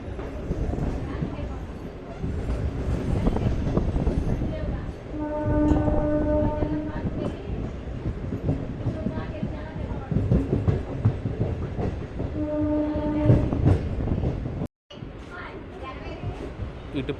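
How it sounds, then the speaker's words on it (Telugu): A MEMU passenger train pulls away from platform 1 at an old station. It rumbles steadily with two long multi-tone horn blasts, one in the middle and one near the end, under loud surrounding noise and occasional talk. "ఎగ్జాక్ట్గా 4 మినిట్స్ ఆగిన తర్వాత అయితే మా ట్రైన్ అయితే స్టార్ట్ అయిపోతుంది ఇక్కడ నుంచి"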